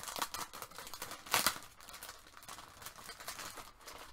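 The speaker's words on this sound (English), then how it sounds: "You might hear some crinkling." Plastic packaging crinkling and rustling as a bundle of seam binding is unwrapped, irregular close crackles with one louder burst partway through, fairly quiet and without talk.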